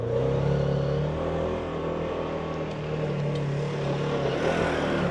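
Polaris XPEDITION UTV with a tent, engine droning and revving as it climbs a steep hill with momentum, a steady loud motor tone close by that holds throughout.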